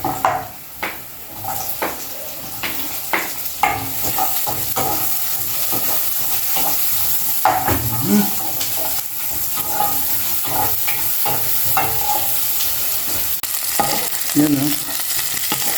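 Garlic and onion sauté in a pan with a loud, close sizzle. A spatula keeps scraping and clanking against the metal in irregular bursts, and a voice briefly speaks over the cooking.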